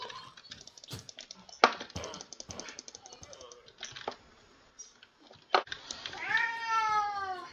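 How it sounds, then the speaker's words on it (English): A cat in the Minecraft-style game Paleocraft lets out a long, rising meow near the end, following scattered keyboard clicks and a voice talking over the gameplay. "Cat, what the frick?"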